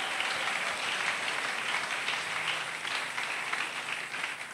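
A church congregation at an Easter service applauds together, producing a dense, steady wash of clapping that holds evenly for several seconds before easing slightly, with no speech over it.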